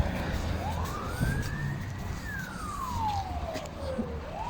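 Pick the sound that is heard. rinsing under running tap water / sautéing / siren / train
siren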